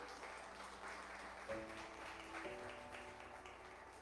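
Congregation clapping in a church service, a dense steady wash of applause lasting throughout with faint tonal music or organ lines underneath.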